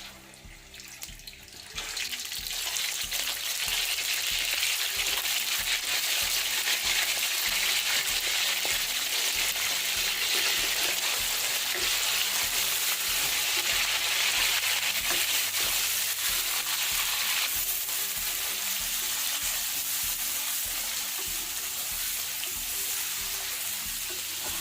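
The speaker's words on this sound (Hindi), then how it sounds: "चिकन डालकर फ्राई करेंगे।" Chicken pieces fry in a pan with whole spices for pulao, giving a loud, steady sizzle that swells in after a short quieter start and holds throughout with no voices.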